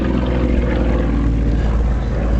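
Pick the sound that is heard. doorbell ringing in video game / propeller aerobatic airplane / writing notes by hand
propeller aerobatic airplane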